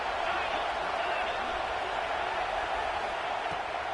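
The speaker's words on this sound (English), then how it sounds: "this crowd imploring its defense to stand firm" A stadium crowd at an American football game roars steadily and loudly for its defense in the red zone, a dense continuous wall of cheering with a play-by-play voice talking over it.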